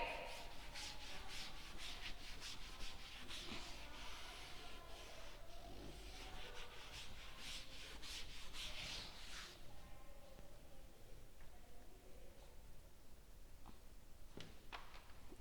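An eraser or duster rubs writing off a classroom board in a steady, faint scrubbing sound with short strokes, fading toward the end.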